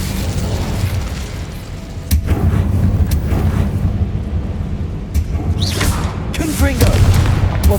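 Incendio fire spell cast in Hogwarts Legacy on PS5: loud booming, rumbling bursts with whooshing flares over a continuous roar of noise, repeated several times across the clip.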